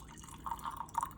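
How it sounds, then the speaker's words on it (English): Mulled spice cider being ladled into cups in a home kitchen, a brief soft liquid pour with faint drips, close and quiet. "And then you're just gonna ladle the cider"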